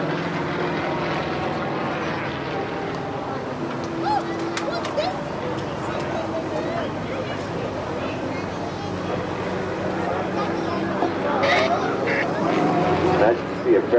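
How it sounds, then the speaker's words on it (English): Yak aerobatic aircraft with a 9-cylinder, 400 horsepower radial engine at an airshow, a steady droning engine hum held throughout at moderate distance, swelling slightly near the end, under a talking commentator. "this particular aircraft is powered by a 9-cylinder, 400 horsepower radial engine"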